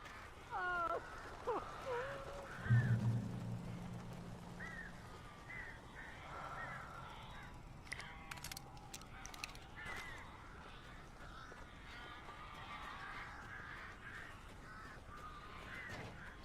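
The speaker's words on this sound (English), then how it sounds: "These birds are weird." Crows cawing inside a building in the video game Alan Wake, with harsh caws and wing flutters early on, then quieter game ambience and scattered rustling noises.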